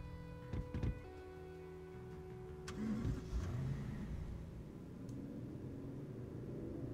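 A car engine in Final Fantasy 15 under manual driving, a steady mid-pitched rumble that swells as it accelerates, with brief clicks early on and a continuous drone afterward, no talking.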